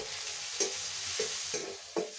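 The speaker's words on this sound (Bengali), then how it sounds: "তেল গরম হয়ে গেছে, আমি এখন রসুন দিলাই, লগে আদাও দিলাই।" Garlic and ginger frying in hot oil in a wok over a clay stove: a steady soft sizzle broken by four sharp scraping stirs at roughly even intervals.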